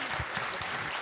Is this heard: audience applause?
yes